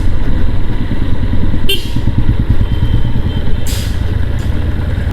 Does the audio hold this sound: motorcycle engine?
yes